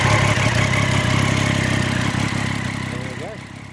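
A 2013 Triumph Street Triple R motorcycle with a standard exhaust and standard cam idles steadily close by with a low, even burble. The engine fades slightly toward the end, and a voice is faintly audible over it.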